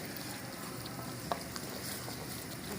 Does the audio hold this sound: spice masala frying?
yes